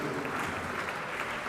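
An audience at an endowment lecture applauds, a dense and even burst of clapping from many hands that fills the whole moment at a moderate distance.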